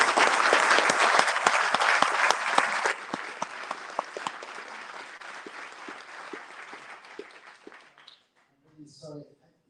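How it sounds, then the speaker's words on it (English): A conference crowd in London applauds Palestinian healthcare workers with loud, dense clapping that gradually thins to scattered claps and fades out, followed by a brief voice at the end. "we should give the Palestinian healthcare workers today a big applause"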